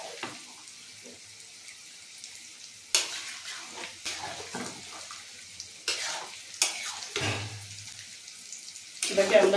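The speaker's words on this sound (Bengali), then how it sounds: "খুন্তি দিয়ে আরও কিছুক্ষণ নাড়িয়ে নেব।" Spatula stirring chicken chaap with spiced water in a pan, heard as intermittent scraping bursts and soft sizzling, close and moderately loud, with gaps of quieter simmering between strokes.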